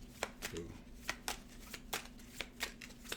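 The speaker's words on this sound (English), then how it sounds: "One more shuffle." Tarot deck being shuffled by hand, a quiet series of crisp riffling card slaps in a quick uneven rhythm, close up over a faint low hum.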